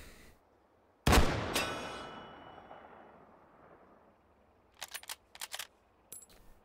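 A Remington M40A1 bolt-action rifle fires once in the VR shooting game Hot Dogs, Horseshoes and Hand Grenades. The single sharp, loud crack rings out with a long echoing tail. A few quick, faint mechanical clicks follow.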